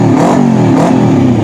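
A Kawasaki Ninja 250 motorcycle on its stock exhaust revs loud and close, its engine rising and falling in a brief burst of throttle.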